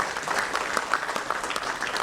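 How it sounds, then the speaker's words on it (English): A conference audience applauds panelists and moderators, a steady crackle of many hands clapping at moderate volume from across the hall, with a few sharper claps standing out. "I would like to put on a huge round of applause for all the panelists and moderators"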